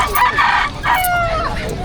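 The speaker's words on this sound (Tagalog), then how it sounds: "Kaya yung manok eh. Kawawa lang yung manok." A chicken crows close by at the Bocaue tiangge pet market, one clear drawn-out call with a second rising call right after, over a light market murmur.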